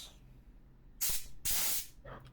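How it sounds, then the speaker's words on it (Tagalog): Gas vented from a WE Glock 17 Gen 5 airsoft pistol: two loud, close hissing bursts in quick succession, the second longer, followed by a fainter short hiss, with quiet background between. "Okay, so release ko lang yung gas."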